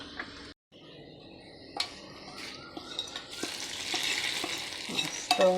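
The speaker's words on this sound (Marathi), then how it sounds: "फोडणी आपल्याला आपल्या कैरीवर टाकायची आहे" Hot tempering of oil, garlic, asafoetida and curry leaves hits raw mango for pachadi, with a soft sizzle, spoon-on-pot clinks and stirring scrapes that build into a fuller frying hiss near the end.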